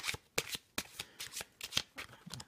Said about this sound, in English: overhand shuffle, and you can even do Hindu shuffle.